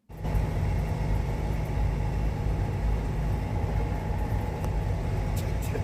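A blue tractor engine drones steadily and fairly loud at 30 km/h on a road, a constant low rumble with road noise that holds unchanged from start to finish.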